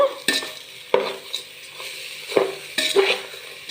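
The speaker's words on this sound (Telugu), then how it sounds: "కలుపుకుంటా పాకం వచ్చే వరకు వేయించుకోవాలి" Jaggery with grated carrot and crushed cardamom is stirred in a pan for laddu, with a spoon scraping and knocking against the metal several times over a soft, low sizzle and no voices.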